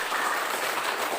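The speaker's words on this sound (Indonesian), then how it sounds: "tepuk untuk suku Manjaya" Students in a classroom clap for a group, a brief burst of dense, even applause that stays loud and close throughout.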